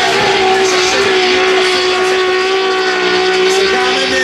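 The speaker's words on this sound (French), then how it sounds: "Cédric Légaré dans son Corvette C6 2JZ" Corvette C6 fitted with a 2JZ engine drifting in a pro qualification run at Ste-Croix, Québec, a loud sustained engine howl holding a steady high pitch with tire noise and a crowd murmur beneath.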